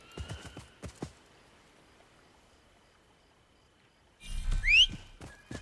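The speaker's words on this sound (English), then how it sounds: "now I set my horse to follow the road all the way to the objective" Horse in the video game Assassin's Creed Mirage, heard as a few hoof clops early on, then near silence, then a loud close whinny with snorting near the end.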